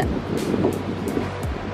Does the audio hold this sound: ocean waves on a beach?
yes